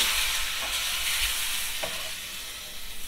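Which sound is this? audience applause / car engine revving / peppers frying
peppers frying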